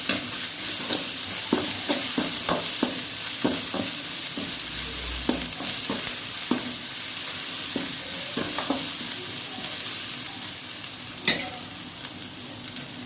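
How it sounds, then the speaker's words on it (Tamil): Ginger garlic paste sizzles steadily in a hot pan for a chicken dish, with a utensil repeatedly scraping and stirring in irregular knocks over the constant frying hiss. "இஞ்சி பூண்டு பேஸ்ட்டு நல்லா ஒரு டேபிள் ஸ்பூன் கிட்ட போட்டுக்கோங்க போட்டு அந்த பச்சை வாசம் போகிற வரைக்கும் அதையும் நல்லா வதக்கி எடுத்துக்கலாம்"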